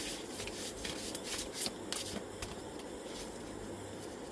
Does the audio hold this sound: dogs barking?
no